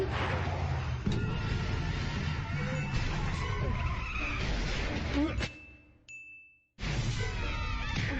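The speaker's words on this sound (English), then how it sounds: "wrecking his truck might just be the only justifiable bit of damage Peter is responsible for" An ice cream truck in the animated show Family Guy skids with squealing tires and engine roar, loud and sustained, then cuts out briefly to a ringing tone before noise resumes; voices mix into the action.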